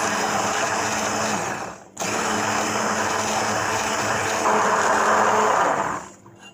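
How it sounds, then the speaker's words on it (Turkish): A blender whirs loudly and continuously, pureeing a sauce, pausing briefly once, then revving again before cutting off near the end. "Şimdi blender'dan geçiyoruz."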